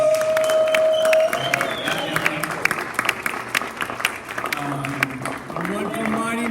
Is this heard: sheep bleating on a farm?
no